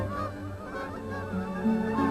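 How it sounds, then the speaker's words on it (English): Geese, among the first generations raised by William Lishman for ultralight-led migration flights, give a short burst of overlapping honks, fairly close and clear, with no talk. "when the first 2 generations of geese that Lishman had raised reached adulthood"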